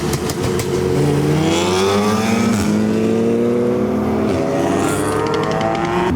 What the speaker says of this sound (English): Some of the cars have already started leaving.